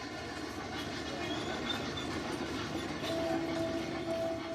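Small tourist train rolling through a Cape Town street: a steady, fairly distant rumble with a soft clatter and faint tonal squeal toward the end, no voices.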